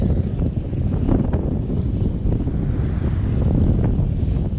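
Strong wind buffeting the microphone in a continuous low roar, steady and loud throughout with no voices.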